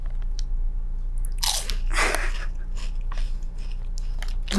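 Someone bites into steak close to the microphone, giving a couple of crisp crunchy bites followed by wet chewing over a low steady hum.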